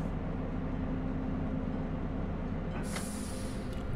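A RegioShuttle RS1 railcar in Train Simulator 2 rumbles steadily as it brakes toward a station, with a low constant drone and a hissing brake release rising near the end.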